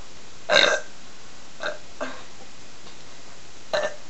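Burps in a contest between cousins: one loud, drawn-out belch, then a few shorter, fainter ones spaced apart and a final brief burp near the end.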